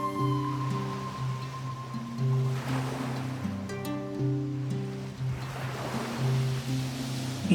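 Sea waves wash onto the beach at a temple shore used for funeral rites, with broad surges swelling and receding beneath steady instrumental music that plays throughout.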